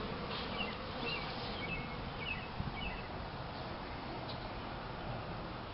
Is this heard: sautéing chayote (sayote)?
no